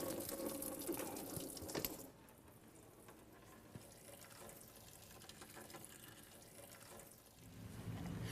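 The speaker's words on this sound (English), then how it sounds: "open the drain plugs slowly to drain out the old fluid" Old coolant drains from a car radiator drain plug in a steady trickling, splashing flow, louder at first, settling into a quieter continuous pour, then swelling again near the end.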